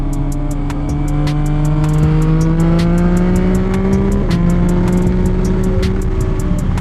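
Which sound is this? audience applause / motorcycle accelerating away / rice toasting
motorcycle accelerating away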